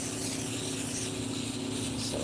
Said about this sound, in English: Let's spray this, because this did have powdery mildew early in the year